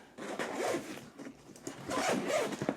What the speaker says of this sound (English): opening this expander. So there's this kind of non-waterproof zipper here that goes all the way around.